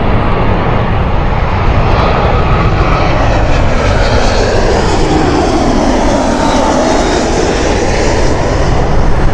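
An airliner on approach at Heathrow Airport roars continuously overhead, a loud, broad engine rumble and rushing whine that shifts slowly in pitch as it passes, with no voices.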